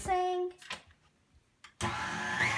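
An electric mixer whirs as it beats egg whites with cream of tartar for chewy coconut macaroons, starting and stopping in short bursts and then running steadily near the end, with a voice heard briefly at the start.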